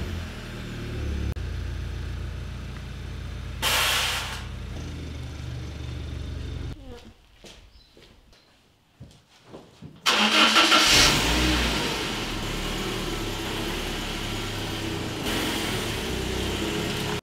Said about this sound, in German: Ich fahre erstmal den GTI raus, damit wir den E36 nach vorne holen können